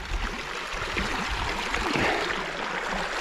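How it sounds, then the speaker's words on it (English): Running stream water in the Lake District flows steadily with a bright, continuous rushing babble close by, at an even level and without any voices. "Better if you use running water."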